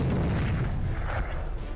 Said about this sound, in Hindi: रूसी आर्मी की युग ग्रुप के फौजी यहां तोपखाने से हमले कर रहे हैं।